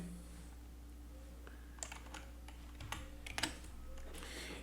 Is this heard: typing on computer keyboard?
yes